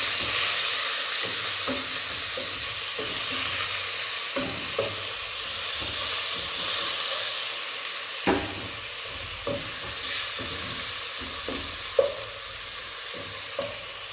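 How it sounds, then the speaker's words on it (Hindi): Onions frying in oil in a pan for palak gosht, a steady sizzle throughout with occasional stirring clicks and scrapes of the spoon, close and alone without speech. "इसी ऑयल में हम प्याज ऐड करेंगे।"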